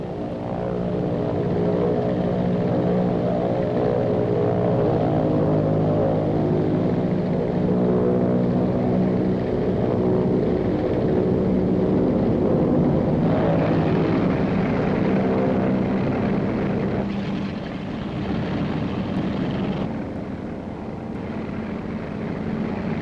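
Aircraft engines and propellers drone steadily on the flight deck of the carrier Hr.Ms. Karel Doorman as planes move toward the catapult, a loud continuous rumble with layered engine tones that shifts slightly midway.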